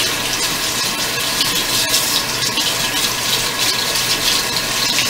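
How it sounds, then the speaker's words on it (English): Water runs steadily from a tap into a sink, a close, continuous splashing rush with no talking. "And then just rinse it under the water in your sink."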